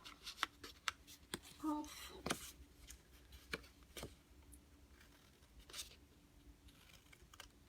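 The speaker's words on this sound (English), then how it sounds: "Just come along and cut into these little V's." Scissors snip paper tabs into small V shapes for a Blended Seasons diamond card box, a series of quiet, close cuts and crisp paper rustles with hand handling between them.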